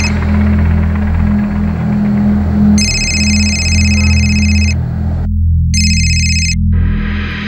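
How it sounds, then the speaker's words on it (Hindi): A landline telephone rings unanswered, its electronic ring tone sounding in two long bursts separated by a short gap over a loud, steady low hum, with no voices. "लैंडलाइन पे भी फोन किया था, सिर्फ रिंग बज रही है, कोई उठा ही नहीं रहा"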